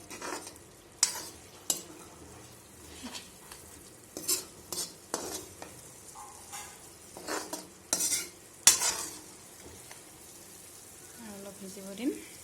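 Chicken pieces dry-fry without oil in a pan, stirred with a metal spoon that scrapes and knocks in irregular bursts over a soft sizzle, with brief quiet voices in between.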